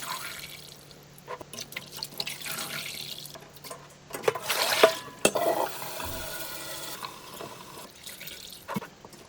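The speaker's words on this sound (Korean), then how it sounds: "우선 딸려온 뜨거운 물을 부어버린 다음에 찬물로 헹궈내세요." Cold tap water runs steadily into a sink while blanched young radish and winter-grown cabbage for water kimchi are rinsed, with splashing and dripping that swells in the middle and small clinks from handling the vegetables.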